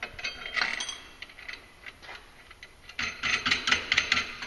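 Ratchet wrench tightening bolts on an EPI clutch kit for a Polaris 570 Sportsman ACE, RZR or Ranger ATV, heard as close bursts of rapid metallic clicking with short pauses between strokes, no talking.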